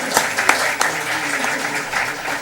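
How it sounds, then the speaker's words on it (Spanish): An audience at a lecture applauds, a steady wash of clapping with a few sharper claps standing out, with some voice-like sound mixed in. "Otro aplauso"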